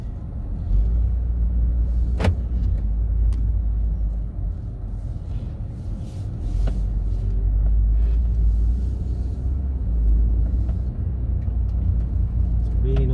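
Interior of a 2015 Honda Jade 1.5 hybrid on a test drive, with a steady low road and engine rumble throughout and a brief clunk, while someone talks over it.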